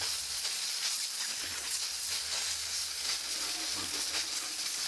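Steady, close hiss of pressurized steam from a Vevor steam cleaner runs unbroken throughout, with faint low rumbles beneath and no talking.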